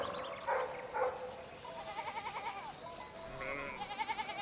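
Sheep bleat in the video game Pentiment, several wavering bleats rising and falling over a soft farmyard ambience.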